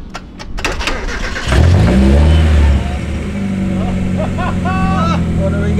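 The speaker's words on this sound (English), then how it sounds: "Rev it up." A car engine in a vehicle run on maple syrup as engine oil starts with a few clicks, then revs loudly and settles into a rough idle up close, with voices talking over it.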